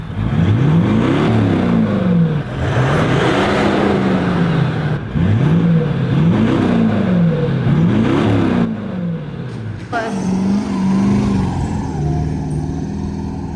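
Toyota Prado fitted with a Manta exhaust, revved in several close repeated surges that climb and drop, followed by a steadier idle and lighter blip.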